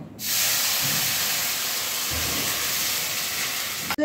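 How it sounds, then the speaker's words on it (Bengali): A cup of water poured into dal frying in ghee, setting off a loud, sustained hissing sizzle that begins abruptly and holds steady for several seconds before cutting off, close up with no speech. "এবার আমি ডালের মধ্যে দিয়ে দিচ্ছি এই বড় কাপের 1 কাপ জল।"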